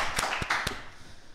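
Three sharp hand claps in quick succession, close and fairly quiet, with a faint murmur of voices afterwards.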